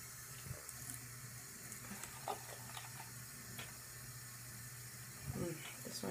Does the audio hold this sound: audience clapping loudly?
no